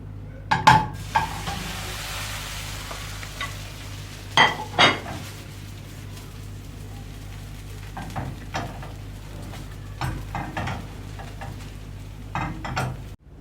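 Potato pan cake frying in a pan on its second side, a steady low sizzle running throughout, broken by several sharp clinks and scrapes of a utensil against the pan.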